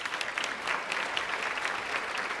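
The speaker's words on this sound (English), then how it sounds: "Let's thank that group a round of applause" A luncheon audience in a large room gives a steady, even round of applause, dense clapping heard from a moderate distance with no talking over it.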